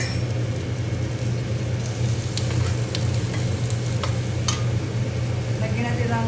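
Fresh shiitake mushrooms fry in sesame oil with a steady, close, loud sizzle, a low stove hum underneath and occasional crackles and stirring scrapes.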